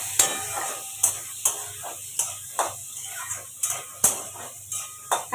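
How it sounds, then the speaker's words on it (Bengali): Ginger, garlic, onion and green chilli frying in a pan, with a steady soft sizzle under regular sharp scrapes of a spoon against the pan about once a second, close by. "এবার কিন্তু এটাকে আমি ভালো করে ভেজে নেবো যতক্ষণ না সব কাঁচা গন্ধগুলো চলে যায়"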